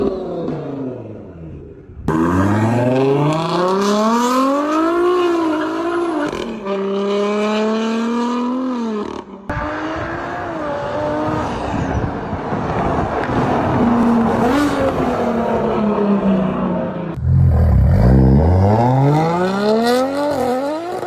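A BMW M3 engine revs hard through repeated rising and falling sweeps, loud and close, with sharp cuts between pulls and a deep throaty burst near the end.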